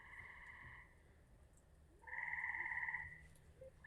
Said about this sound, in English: since everyone enjoys the sounds of the frogs